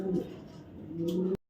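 A blue checker racing pigeon gives a low, throaty coo close by, two soft rolling phrases in about a second and a half, with a voice mixed in, ending abruptly.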